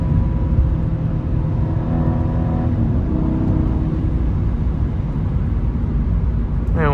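2020 Mercedes-Benz SL550 roadster accelerating in Sport Plus mode, a steady loud engine drone climbing through rising harmonic tones as it gains speed, with a brief high sweep near the end.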